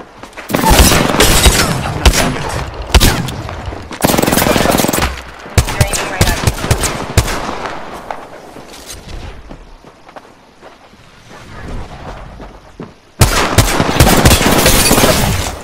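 Gunfire in an Apex Legends-style shooter, with loud bursts of rapid automatic fire in several clusters separated by quieter stretches of game ambience and movement.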